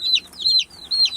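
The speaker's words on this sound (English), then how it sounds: "Hey, chicks. They all survived." Young egg-layer chicks in a brooder coop give three loud, close, high peeps in quick succession with short gaps between, clear against a quiet background.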